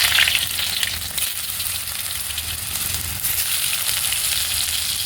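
Potato pieces fry in hot oil in a kadai with torn bay leaves, whole garam masala and dried red chillies, giving a loud, steady sizzle with a sharper burst at the start and no talking.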